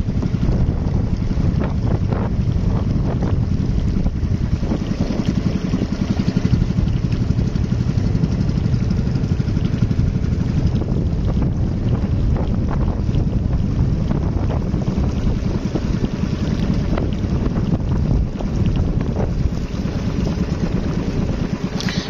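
A boat moving over water, with a steady engine rumble blended with heavy wind buffeting the microphone and splashing throughout.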